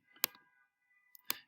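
Two sharp computer mouse clicks while working with the pen tool in drawing software, crisp and close, about a second apart in an otherwise quiet room.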